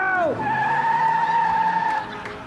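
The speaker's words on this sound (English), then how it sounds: "Honk, honk! Clear the sidewalk! Banana car coming through!" A novelty banana-shaped car drives through city streets, heard as a loud, close, sustained squealing tone that sweeps down in pitch at the start, then holds steady before cutting off.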